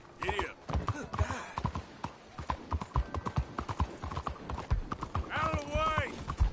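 Horse hooves in Red Dead Redemption 2 clopping at a brisk, rhythmic gallop, close and steady, with a couple of whinnies and a voice speaking over them.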